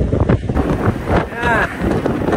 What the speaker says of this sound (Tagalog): Medyo mahangin kaya mahirap. Mahirap yung pabalik, ang hangin eh.